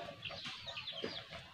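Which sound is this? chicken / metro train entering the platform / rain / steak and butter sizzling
chicken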